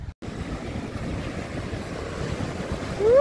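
Ocean surf washes on a dark beach at night in a continuous, close roar mixed with wind buffeting the microphone, with a brief dropout near the start and no talk.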